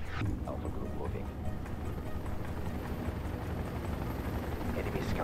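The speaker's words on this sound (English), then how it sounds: "Enemy scout helicopter spotted." An enemy scout helicopter in the World in Conflict video game gives off a steady, fairly faint rotor thrum that carries on throughout, with voices speaking over it.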